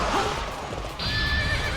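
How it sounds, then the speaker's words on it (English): A horse whinnies loudly with a high, wavering neigh in the video game Warriors Orochi 3 Ultimate, over a dense background of game noise and faint hoofbeats. "Oh, I have a horse."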